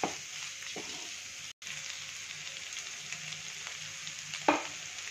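Spiced potato curry being stirred in a pan over a high flame, a steady close sizzle and frying hiss with occasional scraping knocks of the spoon against the pan.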